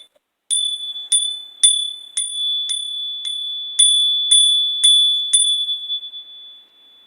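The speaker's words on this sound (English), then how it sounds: "I've been hitting the bell a lot more during this set of readings than the candle and the light." A small bell rings out crisply ten times in an even rhythm during a tarot reading, each bright, close strike leaving a sustained ringing tone that fades as the next one lands.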